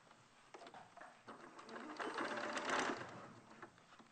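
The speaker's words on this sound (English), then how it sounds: "I'm just going to sew straight across the end there, sandwiching the tail in place" A sewing machine stitches straight across the end of a fabric toy, catching the tail: a fast mechanical chatter that builds in the middle and eases off, fairly close, with no talk.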